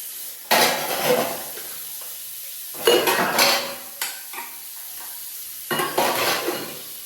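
Bursts of hot running water splash and clatter against dishes in three separate spells, with quiet gaps and a few light knocks between them.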